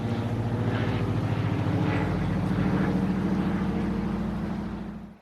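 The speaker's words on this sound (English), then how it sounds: "We even got to see several float planes overhead." A float plane's steady propeller drone hums overhead at moderate distance above the Brightsand-Kopka River, holding constant for several seconds before fading away at the end.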